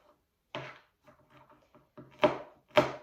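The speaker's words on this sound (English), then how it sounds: "Okay, so I'm chopping them into about 3 pieces each pistachio nut." A knife chops pistachio nuts on a board into small pieces: a few sharp, close taps spaced apart, with fainter rustling between them, ending in two louder chops.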